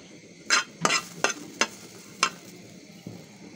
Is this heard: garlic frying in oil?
yes